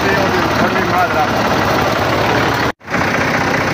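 A tractor engine runs on a farm while hooked to a wheat thresher, a loud, constant close-up rumble with a dense roaring texture that drops out for a split second near the end before resuming.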